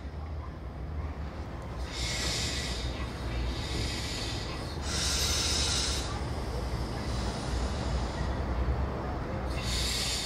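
A Baureihe 628 two-car diesel railcar runs on a south-east Bavarian line, its steady engine and wheel rumble continuous, with repeated bright hissing or squealing bursts rising and fading over about ten seconds.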